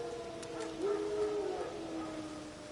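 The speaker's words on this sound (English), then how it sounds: "Wild dogs. Yes. More dangerous than wolves." Wild dogs in The Witcher 3 give a drawn-out, wavering howl with a short whimpering lead-in, heard at mid distance over a steady ambient wash.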